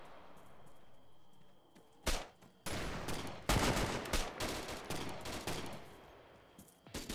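Shotgun fire in Arma 3 during a zombie night session, a string of sharp blasts with irregular gaps, several loud shots mid-sequence, over low background ambience, with no talking.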